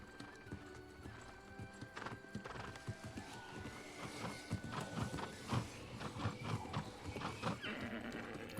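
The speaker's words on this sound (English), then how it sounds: "I have a horsey." A horse mount in New World trots with rhythmic clip-clop hoofbeats and gives a whinny, faint and steady throughout.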